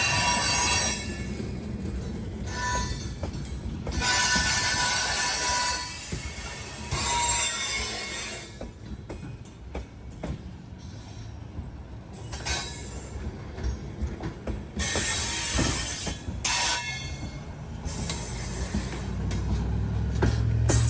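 Two trains pass each other on a rail line, a fluctuating rumble of railcars with bursts of wheel squeal and hiss that swell and fade, heard from a moderate distance.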